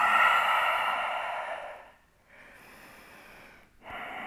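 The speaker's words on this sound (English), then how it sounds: "Let's breathe in through the nose and exhale through the mouth." Slow, audible breaths during a vinyasa yoga class, a long steady exhale followed by a quieter intake and the start of another breath, close and alone with no talking.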